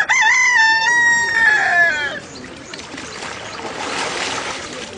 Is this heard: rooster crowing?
yes